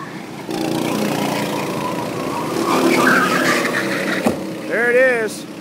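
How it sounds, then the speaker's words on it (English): Racing karts drone around an indoor track with engines revving and tires scuffing, ending in a sharp knock against a barricade followed by a rising engine whine as a voice talks over the action. "They are power sliding right into that barricade."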